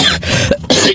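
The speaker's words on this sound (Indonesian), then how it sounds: "aduh batuk" A person coughs several times in short, harsh bursts, close and loud, with brief gaps between them.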